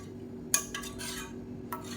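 A spoon scrapes and clinks against a pot a few times while stirring urad dal and green gram batter, quiet and close, over a low steady hum.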